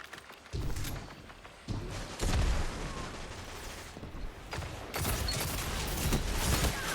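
Shotgun blasts in a video game arrive as several heavy, booming shots with gaps between them. They sound moderately close, and a dense volley near the end adds rattling mechanical clicks, all without speech.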